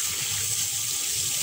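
Water runs steadily from a tap while someone soaps up, making a constant, even hiss of flowing water with no talking.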